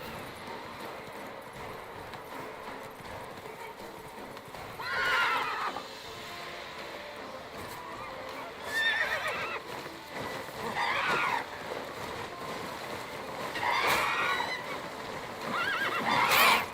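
A horse in The Witcher video game neighs and whinnies repeatedly over steady clip-clop hoofbeats, the calls rising every few seconds above a running game backdrop.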